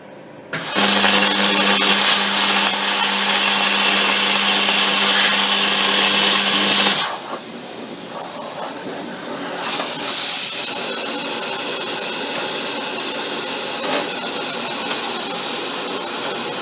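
A plasma cutter slices an aluminium stencil while an air compressor runs. A loud, harsh, steady hiss and buzz continues for several seconds, then drops to a quieter, rougher hiss that goes on to the end.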